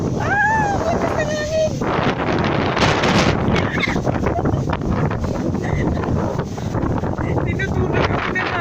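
Strong gusting wind during a storm in Dubai roars steadily across an outdoor microphone, with buffeting rumble throughout and people speaking briefly over it.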